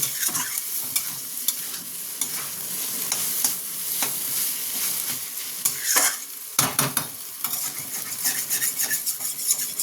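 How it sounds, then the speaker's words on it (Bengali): A vegetable filling for veg bread chop fries in a pan without spices while its water cooks off, a steady close sizzle broken by frequent scraping and clattering stirs of a spatula against the metal, with no voices. "আমি কোনো মশলা না দিয়ে প্রথমে এটাকে ভালো মতন ভেজে নিচ্ছি।"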